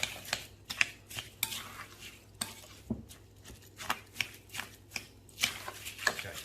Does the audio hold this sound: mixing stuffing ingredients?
yes